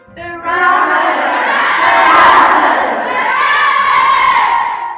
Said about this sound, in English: So when Pilate asked them who they wanted to be released, they all shouted